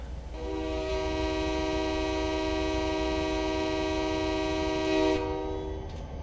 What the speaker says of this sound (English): the engineer was honking at